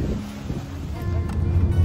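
Strong wind gusting across a sandy beach at Kuta, Bali, a steady loud rush and low rumble of buffeting that builds toward the end, with no voices.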